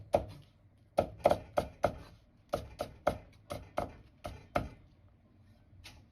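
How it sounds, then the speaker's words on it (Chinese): A kitchen knife slices bitter melon into thin strips on a cutting board, a steady run of about fifteen crisp, close chops in quick irregular groups with brief pauses between. "然后斜刀切成细条"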